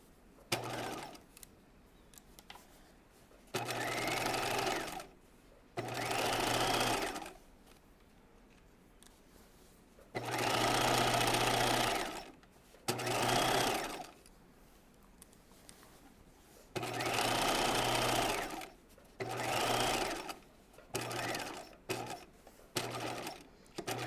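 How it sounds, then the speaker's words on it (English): A sewing machine stitching two fabric pieces together at a 5/8-inch seam for a raglan top, running in several quick bursts of rapid mechanical whirring separated by short pauses, close and fairly quiet. "stitching these two together at 5/8 of an inch"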